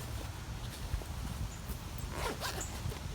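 A zipper is pulled open on a ROM Outdoors Pack poncho, a soft rasping run of fabric and teeth, close but faint and quiet, heard alone.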